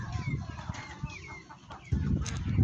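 Chickens cluck repeatedly on a farm in Jahra, Kuwait, where several different breeds are kept, close and fairly steady, with a louder burst of clucking and fowl noise toward the end.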